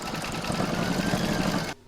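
An embroidery machine stitching back over an earlier row of thread chatters fast and steadily, close up, then stops abruptly near the end, leaving quiet.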